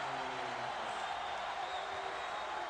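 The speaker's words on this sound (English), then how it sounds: "And this crowd is delighted." Crowd of 8,500 at a men's college basketball game, Washington Huskies against Arizona, making a broad, steady roar of cheering at moderate distance, filling the whole stretch without pause.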